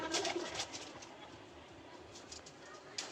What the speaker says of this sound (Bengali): এই যে কিছু কবুতর দেখতে পারতেছেন